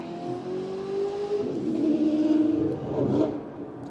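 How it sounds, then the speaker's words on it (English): Race cars run on a nearby track, engines droning and revving with rising and falling whine as they pass, a steady moderately distant roar that builds and swells toward the middle. "Pardon the noise, there's a race going on behind me."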